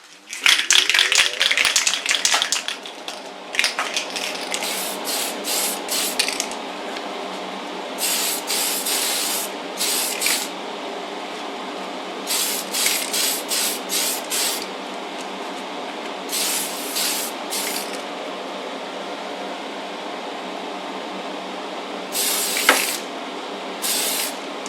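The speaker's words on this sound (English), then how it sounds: "I'm going to give it a quick dust over with some white primer" White primer is sprayed from an aerosol can onto a Dinky Toys Austin taxi body in repeated hissing bursts of varying length, louder at first and then in shorter, evenly spaced passes.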